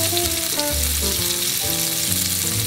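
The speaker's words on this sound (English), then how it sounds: "You want it to get a nice sear before you flip it." Mortadella slices sear in a hot pan with a steady, close sizzle that runs the whole time, with faint scraping or stirring movements mixed in.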